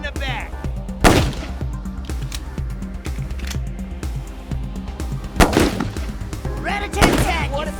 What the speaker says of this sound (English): I'll shoot him in the back.